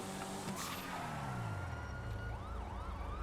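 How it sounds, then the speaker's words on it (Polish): Police car siren wailing in a video game, its rising and falling tone sweeping repeatedly in the second half over a steady car engine drone and traffic noise, with a brief tire skid early on. "O nie, tu policja jest, ajaj."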